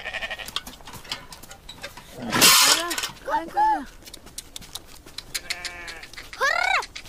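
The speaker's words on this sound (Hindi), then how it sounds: "ये भेड़ उठ नहीं रही है" Sheep on a Rajasthan farm bleating in several loud, wavering calls near the recorder, with a sharp clatter midway and voices talking around them.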